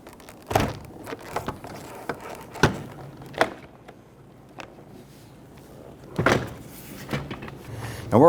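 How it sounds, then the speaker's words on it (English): Plastic clips on a Dodge Charger door panel pop loose from the metal door shell in several sharp cracks and thuds, spaced irregularly amid quieter handling noise. "we're going to release the upper portion of the door panel from the door shell"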